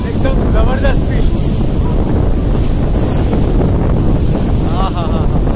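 A cruise boat splashing through waves on Georgian Bay near Tobermory, loud rushing water and heavy wind buffeting the microphone, with voices faintly under the roar.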